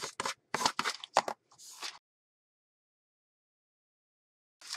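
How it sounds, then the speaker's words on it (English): Scissors trim the paper edge of a mixed media folio journal, a run of crisp close snips and slicing cuts in quick succession, followed by silence and one final short snip. "Just trimmed off that edge."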